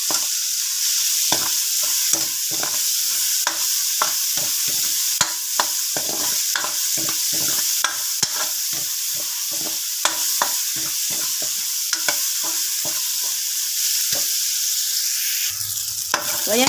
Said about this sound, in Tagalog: pinagsabay-sabay ko na yung ating sibuyas at bawang sa paggigisa